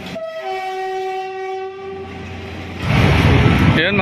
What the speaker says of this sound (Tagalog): Sa bawat daan na pagdagandong at malakas na pagbusina ng tren